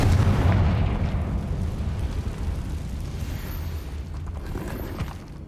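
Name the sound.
Confringo blasting spell explosion in Hogwarts Legacy video game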